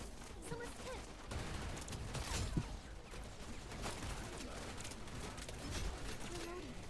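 Bursts of gunfire in the shooter video game Wild Assault, a busy spread of shots and impacts through the whole stretch, with a sharp louder crack partway in and game voice lines mixed over the action.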